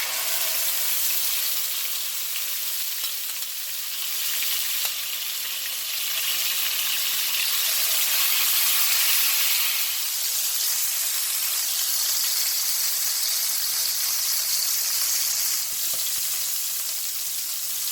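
Chicken pieces frying in grapeseed oil in a pan, a steady loud bright sizzle that holds evenly throughout with slight swells, no voices.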